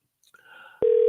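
A telephone line signal sounds as a radio host dials back a caller, a short faint tone followed by a sudden loud, steady single-pitch tone held to the end.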